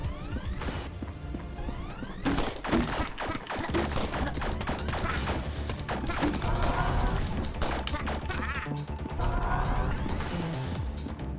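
Gunfire in the video game ANNO: Mutationem, with rapid bursts of shots, sharp impacts and whooshes crowding together in a loud, continuous stretch of combat that never lets up.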